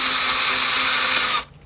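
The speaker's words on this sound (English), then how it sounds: "we're going to just drill a pre-hole, screw hole to make sure that it can attach with the screw" A power drill boring a pilot screw hole into wood, a loud steady high whine held for over a second before cutting off abruptly into quiet.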